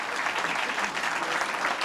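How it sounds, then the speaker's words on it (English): A large audience at a 1998 HIV/AIDS initiative announcement applauds steadily, the dense clapping holding at an even level throughout. "Give her another big round of applause."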